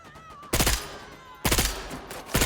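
AK rifle gunfire in the Bloodhunt video game, with three loud, close bursts of rapid automatic shots separated by short pauses.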